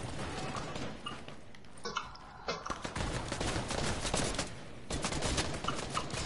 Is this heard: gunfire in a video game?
yes